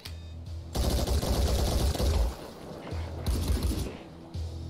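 Automatic gunfire in the tactical video game Phoenix Point, two loud rattling bursts close up, the first about a second and a half long and the second shorter, separated by a short gap.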